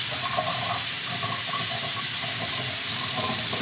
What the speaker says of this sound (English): Turning the water on.